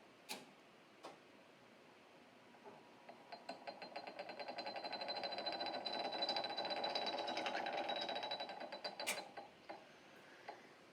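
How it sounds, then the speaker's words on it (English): Magnetic stirring plate mixing a cornstarch solution in a biology lab, a faint mechanical whir and rapid ticking that swells in the middle and fades, with a few soft knocks, no talk. "we are going to put it back on the stirring plate to make sure that we mix in that starch"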